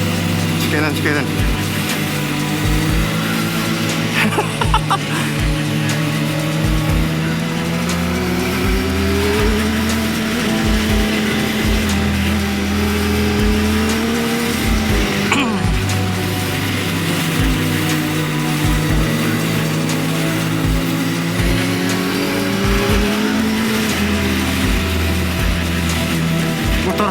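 Sport motorcycle engine, likely a small R15 155cc or a ZX10R, running steadily with rising and falling revs and a gear-shift pattern, loud and close throughout with faint talk over it.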